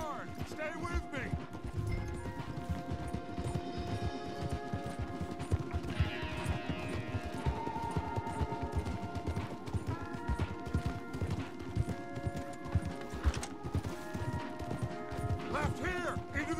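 Horses gallop hard in the video game Red Dead Redemption 2, a steady rapid clatter of hooves that runs throughout, loud and close, layered with game music and background voices.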